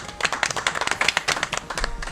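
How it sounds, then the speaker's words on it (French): A small studio audience on a late-night show claps in uneven, fairly close bursts of individual hand claps rather than a smooth roar, lasting a couple of seconds. "donc on peut t'applaudir"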